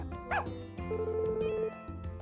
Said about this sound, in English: Oh, puppies!